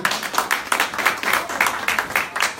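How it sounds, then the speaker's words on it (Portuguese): A church congregation claps together in a quick, regular rhythm, the rhythmic group claps moderately loud and evenly spaced across the short stretch. "Dê um aplauso ao Senhor."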